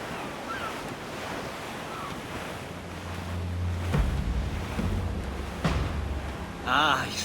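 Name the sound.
strong wind and sea waves on sailing ship, video game Assassin's Creed IV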